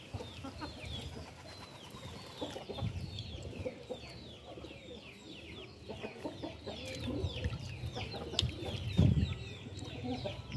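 Birds at a breeding aviary during bath day, with chickens clucking and many small birds chirping busily throughout, a dense close chorus with occasional louder calls.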